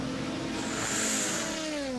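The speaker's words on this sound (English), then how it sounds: "another lap being completed by the number 2 Porsche of Brendan Hartley." The number 2 Porsche race car passes during the 2017 24 Hours of Le Mans, its engine a loud sustained whine that drops in pitch as it goes by.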